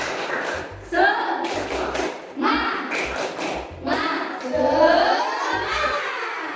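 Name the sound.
rhythmic group hand clapping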